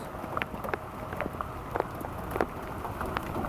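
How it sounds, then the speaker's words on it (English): Rain falling outdoors, a soft steady hiss with scattered light patters and drips hitting surfaces nearby, fairly faint, with no talking. "It's raining out here"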